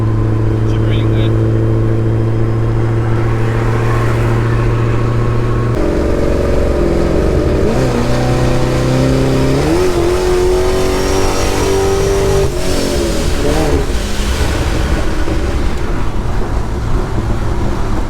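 A Pontiac G8 fitted with wideband and boost gauges accelerates on a freeway. The engine drones loud and close, its pitch climbing in stages through several gear changes while people talk in the cabin.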